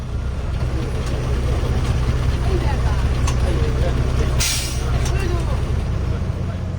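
A 2012 model HRTC bus pulls into Dehradun bus stand amid evening traffic, a steady low engine rumble with a sharp hiss of air brakes releasing midway, while a voice talks over it.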